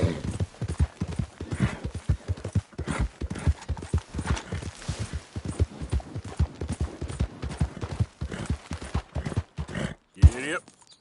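Horse hooves clip-clop in a steady, fast rhythm in Red Dead Redemption 2, close and distinct, with a short whinny near the end and a person talking over the gallop.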